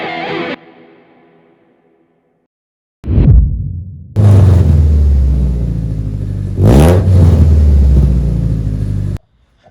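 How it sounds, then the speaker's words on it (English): A junkyard Honda Civic with an exhaust leak: a short blip, then the engine starts and revs up loudly in two surges with a raspy, distorted exhaust note before cutting off abruptly. "we have located another exhaust leak."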